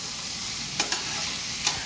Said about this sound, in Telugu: ఇలాగా కలుపుతా. కలిపిన తర్వాత వేగుతాయి.